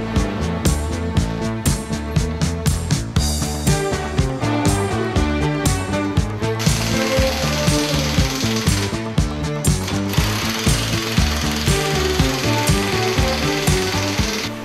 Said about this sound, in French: Les boulons sont fixés de façon manuelle et serrés mécaniquement.